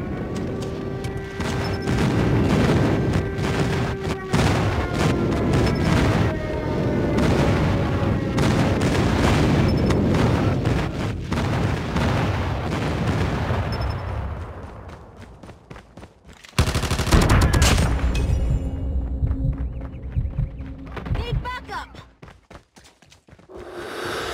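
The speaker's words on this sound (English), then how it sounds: "Friendly airstrike incoming." Airstrike explosions in Call of Duty Mobile multiplayer on the Favela map: a dense, loud barrage of booms and gunfire rolling continuously, dropping briefly before another heavy burst, alone without talk.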